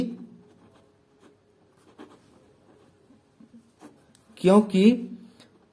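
Soft chalk or marker strokes tap and scrape on a classroom board while a math answer is written, faint and intermittent, before a teacher's voice briefly speaks near the end.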